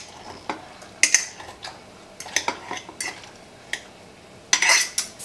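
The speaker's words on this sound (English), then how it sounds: "I'm just gonna kind of mix things together again." Fermented Bavarian white wine sauerkraut is mixed in a bowl, giving irregular clinks and taps of a utensil against the bowl in scattered clusters over quiet wet shuffling, close by and without talk.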